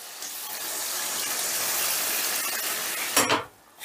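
A little water poured into thickened mung dal with paneer cooking in the pan, heard as a steady close rush of liquid that holds for a few seconds, then a brief clatter before it cuts off.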